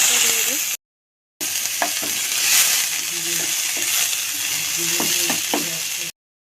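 Cauliflower lightly fries in a pan with a pinch of salt, giving a steady sizzle broken by clinks and scrapes of stirring. Two short silent gaps cut into the sound.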